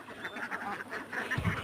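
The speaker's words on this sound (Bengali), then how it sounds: "হাঁস নিয়ে বিলে খাওয়াইতে নিয়ে আসছে" Young ducks, about three months old, quack in short repeated calls while feeding in a marshy wetland, faint and somewhat distant.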